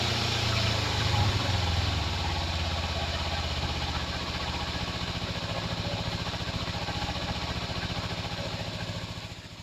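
A Kawasaki Z250FI motorcycle engine idles close by after a throttle position sensor adjustment, a steady, even running hum with regular firing pulses and a slight rise in pitch, tapering a little at the end.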